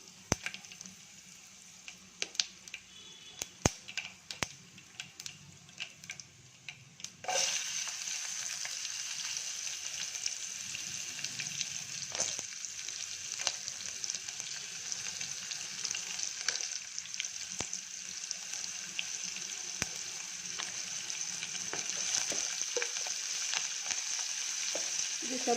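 Onion, curry leaves, garlic and chillies frying in a pan: a few soft clicks at first, then a sudden steady, bright sizzle that carries on close and even to the end.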